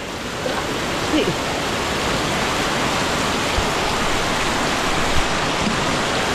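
Heavy rain pours in a dense, steady roar close by as a house floods, with faint voices barely showing through now and then.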